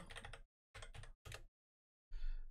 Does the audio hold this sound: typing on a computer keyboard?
yes